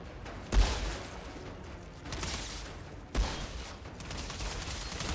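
Gunfire in the shooter Outriders: two heavy, booming shots a few seconds apart, each with a punchy low thump and a spreading tail, set against constant combat background noise.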